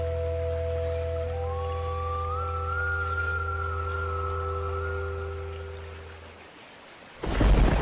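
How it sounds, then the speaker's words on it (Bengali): A cartoon rain-and-thunder effect: steady tonal music drones underneath, then a sudden loud thunder crash bursts in near the end. "বৃষ্টি শুরু হলো তো।"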